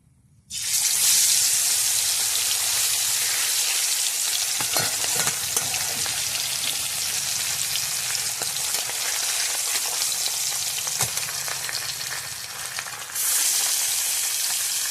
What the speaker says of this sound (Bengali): এবার মাছটা আমি ভেজে নেব